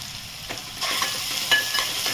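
Sprouted moth beans are stirred and fried in hot oil in a pan, and a spoon scrapes through them now and then. The sizzle is close, steady and busy, with no talk.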